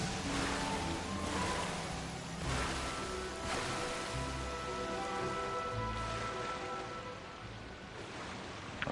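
Steady rain falls and patters in Genshin Impact, a continuous wash with no voices.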